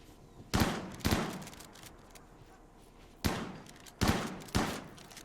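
Five sharp gunshots ring out in the video game Rimworld as colonists fire on an ostrich, spaced irregularly in two pairs and a single shot, each with a short decaying echo.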